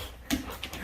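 A Dutch Shepherd dog gives a short, close whimper with faint panting, a brief vocal burst over a quiet room background.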